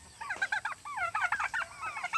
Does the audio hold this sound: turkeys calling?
yes